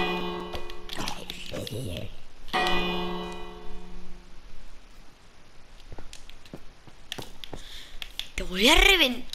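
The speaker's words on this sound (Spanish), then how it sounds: "Campana." A bell rings in the Minecraft video game, a short bright chime heard among game sound effects and excited talk.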